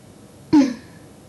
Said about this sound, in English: I'm just coughing a bit.